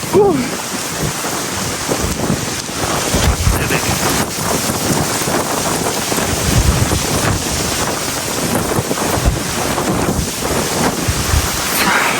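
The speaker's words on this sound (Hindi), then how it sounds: "इतनी तेज हवा चल रही है जी" Strong storm wind roars continuously across the Indus River in northern Pakistan, loud buffeting gusts battering the microphone with a rushing, water-like wash throughout.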